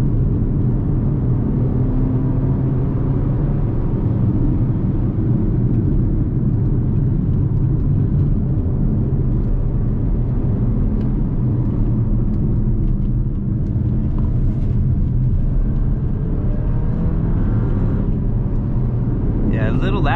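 Interior ride noise of a 2020 Jeep Compass Limited on the road, a steady low rumble of engine and tires filling the cabin throughout, continuous and even with no distinct events.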